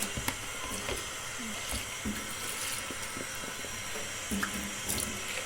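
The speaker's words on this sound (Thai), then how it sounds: "ก็จะล้างน้ำนิดนึงเนาะซาซาวน้ำ" Butterfly pea sticky rice rinsed in water, with steady running and sloshing water and soft splashes and knocks throughout, close and moderately loud, no talk.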